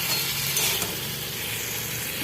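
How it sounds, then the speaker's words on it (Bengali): Fish curry sizzles in a kadai while it is stirred, a steady close frying hiss with a few faint scrapes near the start. "তো হয়ে গিয়েছে আমার নাড়াচাড়া করা,"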